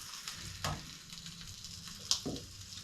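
Possum meat sizzling in hot oil and butter in a pan, a steady close crackle with a few sharper pops and stirring scrapes.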